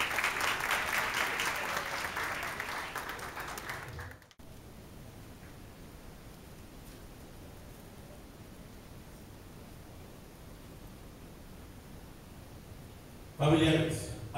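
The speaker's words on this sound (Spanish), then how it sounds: "a los estudiantes nos regalen un fuerte aplauso por esta meta tan grande que hoy hemos cumplido" Applause at a graduation ceremony in Tumaco: a dense wash of clapping for about four seconds that cuts off abruptly, followed by a long quiet stretch of low hiss before a brief loud burst of sound near the end.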